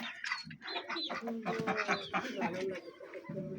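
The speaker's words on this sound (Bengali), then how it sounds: "এটা হচ্ছে রাজহাঁস।" A goose on a village farm calls in a quick run of loud, nasal honks close by, with other fowl and a voice mixed in.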